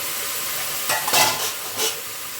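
Bottle gourd greens, stems and potatoes cook in water in a pan with a lid on, giving a steady close hiss and bubbling, with a few brief louder clatters and surges.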